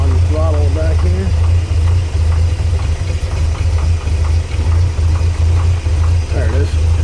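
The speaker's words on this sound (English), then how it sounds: "the idle probably could be a little higher, to be honest" A 1964 GMC truck engine idles steadily with a deep, low rumble close by, while a person talks briefly over it.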